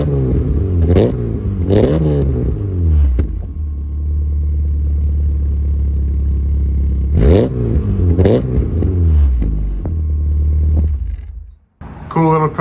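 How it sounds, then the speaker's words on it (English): A Volkswagen Mk1 Golf fitted with a 2.0-litre ABA engine revs hard through its exhaust in two sharp bursts, settling back to a steady, rumbling idle between them, loud and close. "one final exhaust note."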